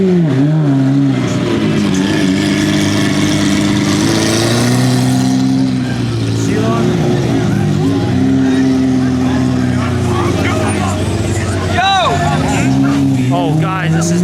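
Hypercar engines revving on a crowded city street during an exotic car week event, a loud continuous roar with rising and falling revs, mixed with crowd noise and voices.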